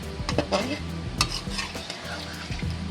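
Chicken karahi with yogurt and cream is stirred and fried in a wok, with close sizzling, scraping spoon strokes and light metal clinks over a continuous frying hiss.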